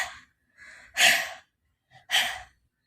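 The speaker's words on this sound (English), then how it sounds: "When you run fast and stop after a long time, how you will breathe?" Heavy panting as after running fast and stopping, a few loud, breathy huffs and sighing exhales with short pauses between, close up, with no talking.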